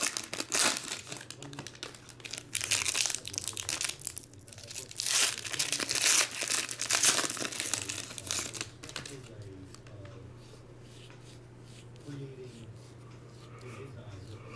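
A foil pack of 2019 Panini Chronicles baseball cards is torn open, giving bursts of crinkling and ripping foil over several seconds before it settles into softer rustling, with a voice speaking at times.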